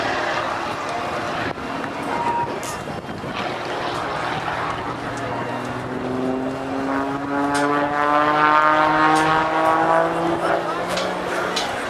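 Patty Wagstaff flies her propeller aerobatic airplane at the 2008 NAS Oceana Airshow, the engine droning loud and steady, its pitch sliding and climbing as the plane pulls through a maneuver; an announcer talks over it.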